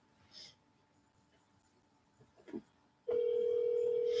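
A telephone on a cold call to property owners: a few faint clicks and taps, then a loud, steady tone starts abruptly and holds, close and alone without talk.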